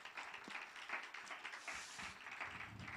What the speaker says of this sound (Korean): 우리 이분들을 위해서 격려의 박수 한번 보내주시면 감사하겠습니다